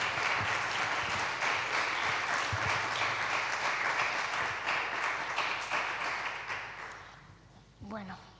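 An audience applauds to welcome a speaker at a book talk on women and feminism, with steady clapping that gradually dies away before a voice begins speaking at the end.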